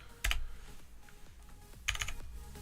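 Typing on a computer keyboard, a couple of quick bursts of clustered key clicks separated by softer scattered taps, close and fairly quiet.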